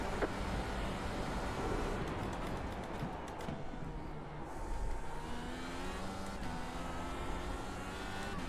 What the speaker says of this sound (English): When you hear the revs just subtly drop because you have too much rear brake in it